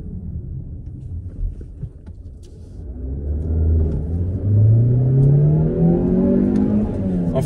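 Mazda CX-30 petrol engine accelerating from inside the cabin, a steady rising drone climbing in pitch as revs build toward about 4000–4500 rpm, with road rumble underneath.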